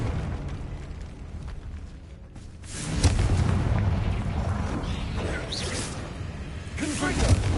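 Confringo fire spell bursting in Hogwarts Legacy on PS5, a loud booming blast that swells after a quiet moment and rolls on with crackling rumble and whooshes, game speech faintly mixed in.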